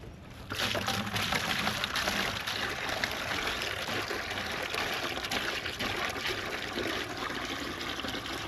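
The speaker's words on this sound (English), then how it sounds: "Let's try to put a little water in it just to see." Water pours steadily into a homemade chicken waterer, a continuous splashing trickle that starts abruptly and keeps running at an even level for several seconds with no talk.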